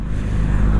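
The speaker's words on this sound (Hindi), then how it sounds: "Z800 का आवाज़ था, ये तो स्कॉर्पियन एग्जॉस्ट।" Kawasaki Z800 motorcycle fitted with a Scorpion exhaust roaring past on a road, a brief loud, deep engine burst close by.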